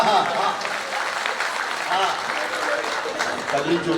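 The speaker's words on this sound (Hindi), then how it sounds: "एक बार जोरदार तालियां बजा दीजिए।" An audience at a kavi sammelan poetry gathering applauds, a continuous wash of clapping with voices and calls rising over it.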